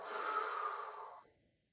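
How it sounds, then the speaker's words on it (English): One long, deep breath during yoga practice, drawn through the nose as a breathy rush that swells and then trails off into quiet, close and soft. "Wherever you are, take a big inhale. Exhale."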